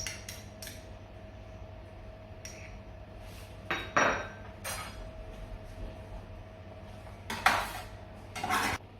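A spoon stirs a sausage and bean casserole with peas and mustard in a pot, giving scattered metallic clinks and scrapes against a steady low kitchen hum, with no talking.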